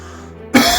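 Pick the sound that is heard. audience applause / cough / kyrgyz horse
cough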